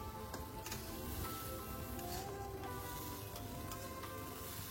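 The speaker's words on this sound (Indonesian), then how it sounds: "ini kita aduk-aduk." Boiled water spinach is stirred with fermented soybean paste and a splash of water in a hot pan, giving a steady close sizzle with soft scraping stirs throughout.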